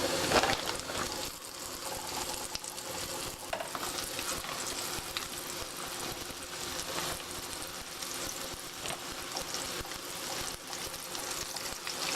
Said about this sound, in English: next I'm going to fry this in the skillet